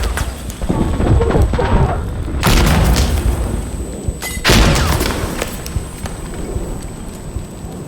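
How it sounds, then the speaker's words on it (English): A grenade detonates in the video game Insurgency Sandstorm, two heavy booming blasts roughly two seconds apart, loud and close, over a constant rumble of battlefield noise. "Throwing grenade!"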